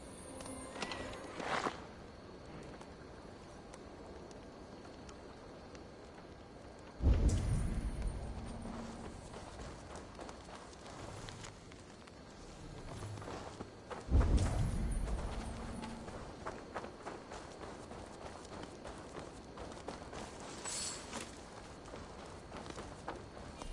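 Horse hooves clip-clopping in the video game Assassin's Creed Valhalla, quiet and steady, with two louder heavy thuds breaking through and footfalls continuing at a faint level.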